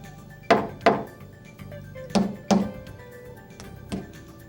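Objects drop or tap onto Homosote, cork and Woodland Scenics track bed laid over plywood, giving a series of separate hollow thunks and knocks, two quick pairs and then softer single hits, close and without talk.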